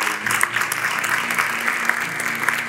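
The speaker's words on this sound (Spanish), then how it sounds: "Les brindamos un fuerte aplauso" Steady applause at a school graduation ceremony at Escuela Enrique Zañartu Prieto, a dense even patter of many hands clapping throughout, moderately loud with no voices standing out.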